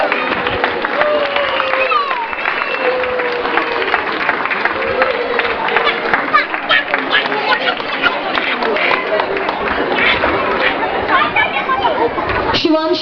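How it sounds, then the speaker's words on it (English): An audience at a school annual festival claps for prize winners in steady, continuous applause layered with crowd chatter, while an announcer's amplified voice speaks over the clapping throughout. "we need to clap for the winners"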